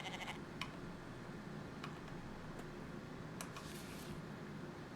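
Sheep bleat faintly in a survival video game, several short calls scattered over a steady background hum, with no talking.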